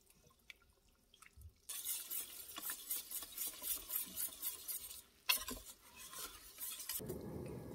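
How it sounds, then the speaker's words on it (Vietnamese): Coconut water pours into a bowl in a home kitchen while making vegan jambon, a steady close liquid splashing that runs for several seconds, dips briefly, then resumes before fading into a lower rush. "Cho nước dừa hết vào đây luôn nha."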